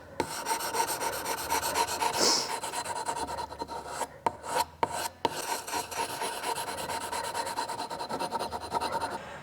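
An Okatsune blade is sharpened on a 500 grit whetstone with close, steady back-and-forth rasping strokes and a few short pauses between passes.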